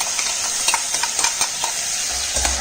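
Ground paste dropped into a hot pan for white kurma, sizzling steadily with scraping stir strokes and light clatter, close and alone without voices.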